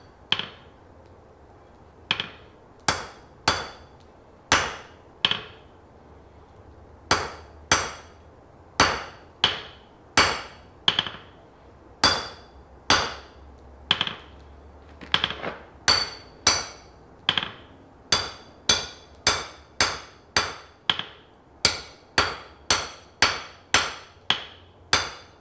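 Hammer blows on metal at a forge anvil, a steady series of about thirty sharp ringing strikes in quick rhythmic groups with brief pauses, loud and close with no talk.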